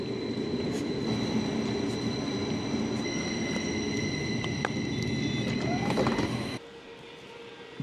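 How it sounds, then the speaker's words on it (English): A stationary train at a German station platform hums steadily with rumbling low noise and faint high whines, then the sound drops off sharply near the end, leaving quieter ambience. "my train was waiting for me down the other end of the platform"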